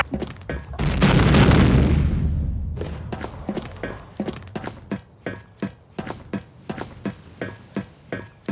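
A grenade explodes in the shooter game Combat Arms, one loud booming blast that rolls on for a couple of seconds, followed by a steady run of sharp, rhythmic thuds like rapid footsteps or gunfire.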